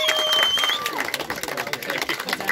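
An audience at an awards ceremony claps steadily for a short stretch, the applause fairly close and dense, with faint voices mixed in.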